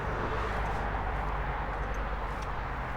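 Steady broadband roar of road traffic beside the A6 near Streatley, loud and continuous with low rumble throughout, no distinct passing vehicles and no talking.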